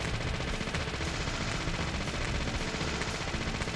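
Gunfire in the horror game Deadly Premonition, sounding as a dense, steady crackle of shots at a constant level throughout, with no voices heard.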